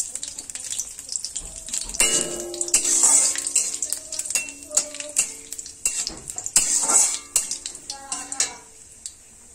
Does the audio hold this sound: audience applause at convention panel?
no